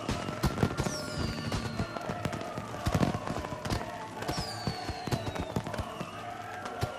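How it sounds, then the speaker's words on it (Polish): Crackling fireworks pops and bursts with whistling trails, dense and continuous at moderate volume, from the video game Watch Dogs 2. "A, fajerwerki."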